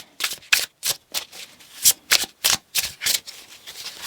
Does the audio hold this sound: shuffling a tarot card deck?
yes